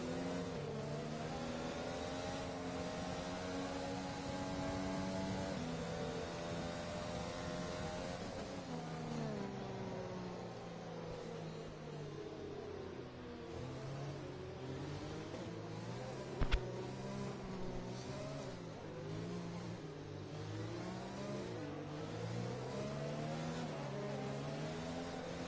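F1 race cars circle the Britain circuit in a racing video game, their engines a steady high whine with shifting layered tones as several cars run in a train behind the safety car, loud and continuous.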